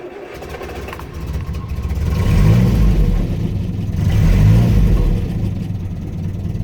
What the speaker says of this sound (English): Ignition, a little bit of choke.